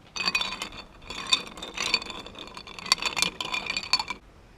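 Ice being stirred with a spoon in a glass while mixing a gin martini with vermouth. Bright clinks and scrapes come in short clustered bursts, close and moderately loud, with no talking.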